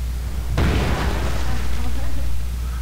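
A bomb blows up in a World of Warcraft pet battle, a sudden loud burst followed by a rumbling, crackling decay that lingers under steady game background noise.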